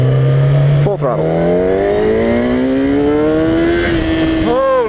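A 2015 Kawasaki Ninja ZX-10R accelerates at full throttle in first gear onto a highway, its loud engine whine climbing steadily, breaking off briefly for a shift, then rising again under strong wind noise.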